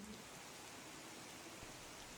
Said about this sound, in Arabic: والمطرة ما شاء الله ما وقفت، قلت خليني اصور لكم هالمنظر الجميل